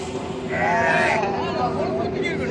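Lambs bleat in a wavering, nasal call over a busy crowd murmur at a sheep market, close by and fairly loud.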